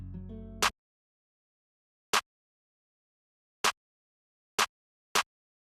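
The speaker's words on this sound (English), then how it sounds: "All I do is just have this high snare layered clap," A high snare layered with a clap, a drum sample in FL Studio for a dark trap beat, struck four times alone as crisp, bright hits with silence between.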